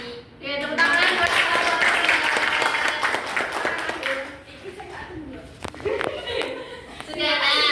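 Students clap for classmates after a science class presentation in a primary school lesson, a lively burst of applause from a small group with children's voices chattering over it, fading midway then swelling again.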